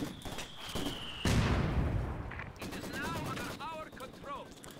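A World War II strategy game battle with mortar blasts and gunfire, including a captured Maxim machine gun, booming and rattling loudly and continuously under excited commentary.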